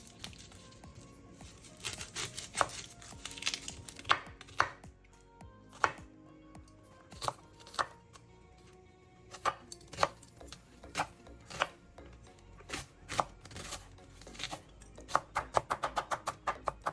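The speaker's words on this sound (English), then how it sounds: "I'm going to roughly chop up one red onion." A kitchen knife roughly chops a red onion on a board, with irregular clusters of soft, crisp thuds that quicken toward the end, heard fairly quietly and without speech.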